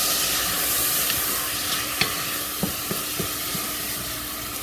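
Yellow rice with sazon simmers in a pot and gives off a steady hissing sizzle. A few soft scrapes and taps come as it is stirred, and no one talks.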